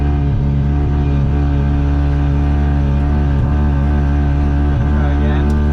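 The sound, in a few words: Volvo wagon engine revving while drifting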